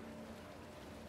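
A small boat's engine in the horror video game Resident Evil Village hums as a steady, low drone with a faint wash of water, quiet and unbroken, with no voices.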